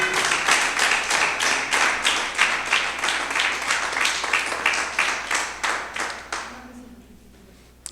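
A church congregation gives a sustained round of applause, many hands clapping steadily and loudly before fading out toward the end.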